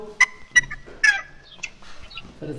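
A five-month-old chicken clucking close by in short separate calls with brief squawks between, about four or five distinct bursts over a quiet farmyard background, with no talk.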